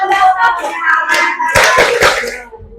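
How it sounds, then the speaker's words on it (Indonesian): Children in a seventh-grade classroom clap their hands in a quick patting routine, a burst of claps rising over chanting voices and then fading as talk continues. "Tepuk tangan untuk kita semua."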